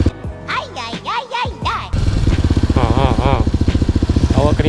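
A motorcycle engine, ridden with a passenger aboard, runs in a steady pulsing idle-like putter for the second half after a stretch of voices, with talk and exclamations over it.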